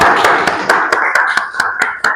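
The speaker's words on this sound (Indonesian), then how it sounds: "Tepuk tangan yang meriah." Students in a vocational school English classroom clap in quick, sparse, fairly close bursts, a short round of applause with only a few hands.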